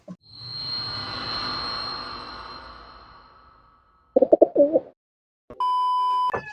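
Racing pigeon sounds: a brief burst of cooing near the middle, preceded by a fading broadband whoosh and followed by a short steady electronic beep.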